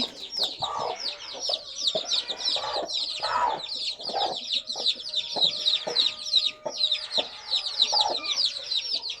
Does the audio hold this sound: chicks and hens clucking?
yes